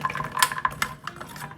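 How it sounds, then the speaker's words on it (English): A cooking spoon stirs food in a crock-pot, giving quick clinks and scrapes in an irregular rhythm, close and moderately loud, over a brief stretch. "a cooking spoon and we're going to kind of stir them up a little bit"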